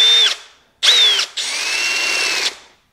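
A power drill spins a cheap dowel maker into pine wood: two short high-pitched whining bursts, then a longer sustained grinding spin, loud and close, with pauses between, no talking.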